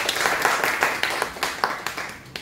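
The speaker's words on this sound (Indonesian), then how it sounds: "tepuk tangannya kayak lebih sekeras yang keras juga" Church congregation clapping, a fairly small group of hands producing distinct, somewhat rhythmic claps that come close and moderately loud over a short stretch.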